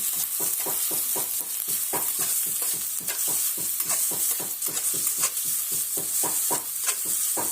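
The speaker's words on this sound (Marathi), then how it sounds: "कांदा व्यवस्थित परतून घेऊ" Chopped onion sautéing in a pan for a bitter gourd (karela) curry: a steady sizzle broken by quick, regular scraping stir strokes, close and fairly loud throughout.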